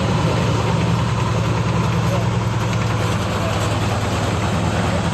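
A tank's engine runs at the Canadian War Museum with a steady, loud, low rumbling drone that holds throughout, with people talking over it.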